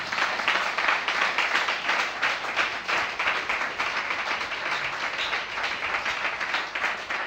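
A church congregation claps together to acclaim the Holy Spirit. The applause is loud, dense and sustained for several seconds, then eases off a little toward the end.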